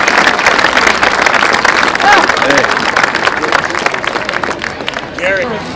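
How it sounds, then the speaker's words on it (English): Audience applause at a Cardinal Pride Hall of Fame induction ceremony in Wilmer, Minnesota, honoring a deceased inductee; steady dense clapping from a crowd lasting throughout, with murmured voices mixed in and a slight fade near the end. "let's give a big warm applause to Lane Erickson"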